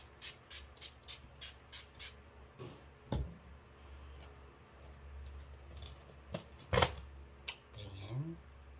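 A rapid run of short spritzes from an e.l.f. setting spray bottle, then a louder single spritz later, with soft rustling in a quiet room.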